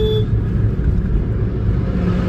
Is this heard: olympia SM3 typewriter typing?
no